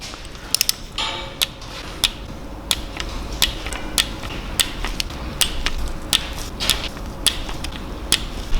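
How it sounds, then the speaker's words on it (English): Crisp, evenly spaced metallic clicks from a torque wrench tightening camshaft bolts on a BMW S54 engine to about 11 Nm, close and clear over a low workshop hum, with no voices. "after torquing all the bolts, actually the torque spec for these bolts is between 11 and 12 Newton meters"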